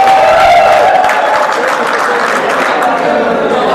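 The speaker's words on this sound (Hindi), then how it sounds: "अपने लिए एक बार ताली बजा दो एक बार।" Crowd applauding at a Bhagwan Parshuram procession event in Karnal, a loud burst of clapping right from the start that stays steady, with a voice briefly heard.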